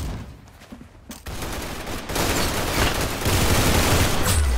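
Sniper rifle gunfire in a video game: a loud, dense roar of shots builds after a quieter opening and stays heavy to the end.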